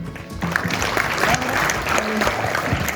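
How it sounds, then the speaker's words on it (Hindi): Applause from an audience at a school event marking Lala Lajpat Rai's birth anniversary, a steady dense clapping that fills the whole stretch, fairly loud and close, with some voices mixed in. "तालियां एक बार आवेश के लिए।"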